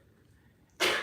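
A single sharp sneeze bursts out suddenly after a near-silent moment, loud and close, then trails off briefly.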